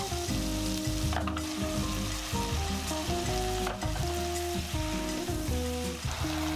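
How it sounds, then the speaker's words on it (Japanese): Chicken, potatoes and onions stir-frying in butter over medium heat, a steady close sizzle with scraping and stirring clatters throughout, under soft background music and with no talking. "2分経ったらじゃがいも、玉ねぎを加えてしんなりするまで中火で炒めます"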